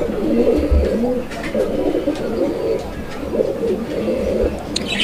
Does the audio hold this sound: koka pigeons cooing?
yes